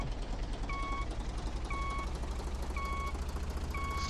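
A farm vehicle reverses in the video game Professional Farmer 2014, its electronic reversing alarm giving four evenly spaced two-tone beeps over a steady low engine rumble.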